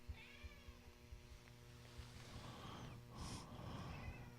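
A house cat meows softly a few times indoors over low background noise and rustling, with one sharper, clearer meow near the end.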